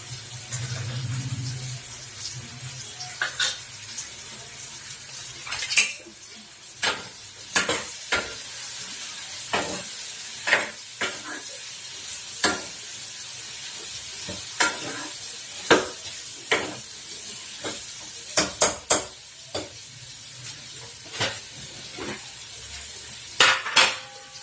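Sweet potato vegetable sizzles steadily in a pan while a spoon stirs and scrapes it, with a string of sharp metallic clinks recurring every second or two over the constant frying hiss, close and without talk.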